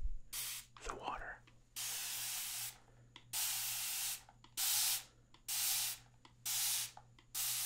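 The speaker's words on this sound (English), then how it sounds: "And spray the water." Plastic spray bottle misting water in a quiet room: a rustle, then six steady bursts of hissing spray, each lasting about a second, close and fairly loud.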